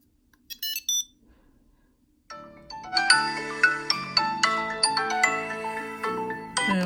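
A phone rings loudly, set off by a Tile Slim tracker, with a few short chimes, a pause, then a repeating bright melodic ringtone that keeps cycling.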